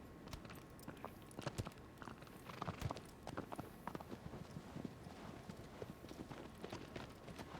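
A horse in Shadow of the Colossus trots and gallops with steady hoof clip-clops, fairly close and clear, with faint game ambience and no talk.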